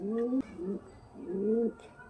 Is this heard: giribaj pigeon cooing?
yes